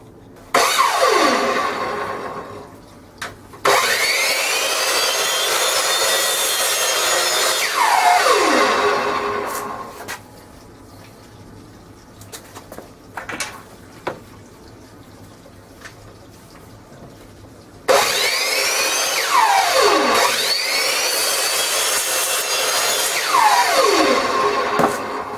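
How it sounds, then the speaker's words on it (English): Miter saw spinning up and slicing through wood trim, two loud whining cuts with blade wind-down, a quieter gap between, then another long cutting burst close by. "I'll go ahead and get the miter saw out and go ahead and get started"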